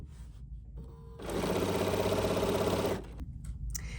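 A Bernina 735 sewing machine stitching for about two seconds, a fast even mechanical whir close by between quiet handling noises.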